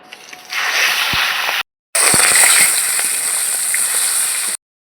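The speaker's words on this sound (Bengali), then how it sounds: "বাদবাকি মাছগুলো ভেজে নিচ্ছি" Pabda fish pieces frying in hot oil in a home kitchen, a steady broadband sizzle that swells after a soft start, cuts out briefly, then resumes loud and continuous with small pops until it stops abruptly.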